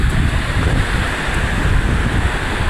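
Ocean waves washing steadily near a seaside sanctuary, a continuous close roar of surf with heavy wind buffeting the microphone, no speech.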